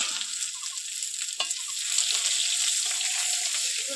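Bay leaves and chopped onion frying in hot oil with panch phoron for a lentil and bottle gourd dish, a continuous hiss and sizzle with a few stirring scrapes, close and steady.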